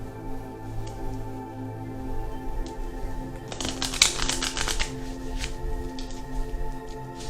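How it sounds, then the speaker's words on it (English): Tarot cards shuffled by hand in a quiet room, a burst of dense riffling and flapping in the middle of the stretch with soft tapping before and after. "let me give another good shuffle."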